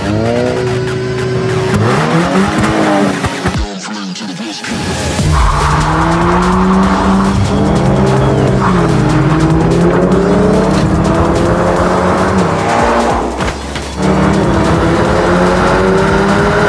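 Loud engines rev and roar close by as a Toyota GR 86 races a VW GTI, with tires squealing and skidding and engine pitch rising and falling through gear shifts.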